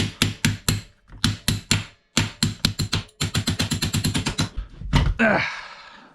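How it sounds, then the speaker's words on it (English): Sharp, rapid taps of a hand striking metal parts on a Kawasaki DR-Z supermoto to seat spacers, coming in quick bursts of four to a dozen strikes with short pauses, close and fairly loud, ending in a brief scraping rustle. "you just use your hand as a hammer"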